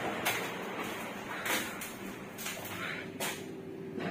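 Lincoln elevator doors at a commercial building slide shut with a soft rumbling whoosh, a few brief thuds and clicks marking the movement, heard alone at moderate loudness.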